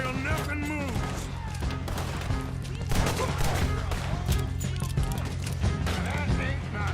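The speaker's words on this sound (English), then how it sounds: "Just keep shooting till nothing moves." Gunfire in Red Dead Redemption 2 pops in scattered, repeated shots through a busy shootout in Saint Denis, under frequent shouting voices and background commotion.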